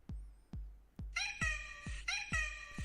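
A cat meow sample placed in a music beat: sharp percussive hits keep a steady rhythm while a pitched, harmonic meow plays twice over them, fairly quiet overall.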